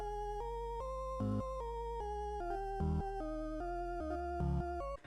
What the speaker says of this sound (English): the main sound is pretty simple because it uses basic wavetables and without any effects sounds like this.